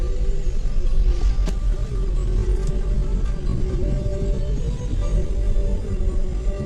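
A car engine idles and rumbles steadily at a wedding gathering in a Maharashtrian village, the low drone continuous throughout with faint background voices.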